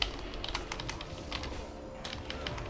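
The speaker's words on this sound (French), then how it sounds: "je suis en train de pianoter comme un taré sur, sur mon clavier" Rapid typing on a computer keyboard while playing World of Warcraft, a dense run of close, crisp key clicks with a few louder taps, all over a low steady hum.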